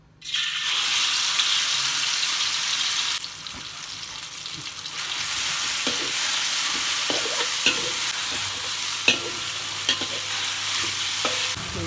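Pounded sambal hits hot oil in a wok for a squid-in-ink dish. A loud, steady sizzle starts at once and holds throughout, broken by occasional scrapes and taps of stirring.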